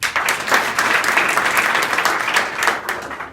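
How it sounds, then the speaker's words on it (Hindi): Applause from an audience in a college hall in Azamgarh, a burst of many hands clapping that swells and fades over a few seconds, close and fairly loud, with no voices over it. "ताली बजा दीजिए"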